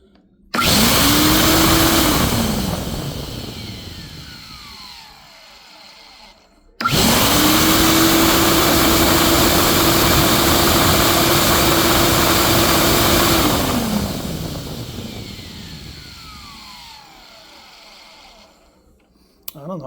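A Ridgid 6HP 14-gallon NXT shop vacuum, just reassembled after failing, roars up loud and close, winds down after a couple of seconds, then restarts and runs steadily for several seconds before spinning down.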